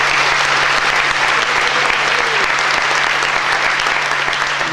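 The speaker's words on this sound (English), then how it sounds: "Please give them a round of applause." Breakfast audience giving sponsors a round of applause, dense steady clapping from a roomful of people, loud and continuous with no voices over it.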